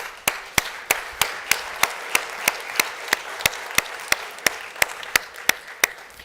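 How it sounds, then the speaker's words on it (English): Sharp, evenly spaced claps repeat in a steady beat over a low background hiss at a European football conference panel as panelists are welcomed. "Let's give them an applause."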